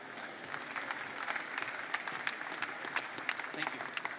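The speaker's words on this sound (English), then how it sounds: "You can applaud him." An audience at an OpenAI press conference breaks into steady applause, many hands clapping in a dense, continuous patter with scattered sharper claps throughout, heard at moderate distance.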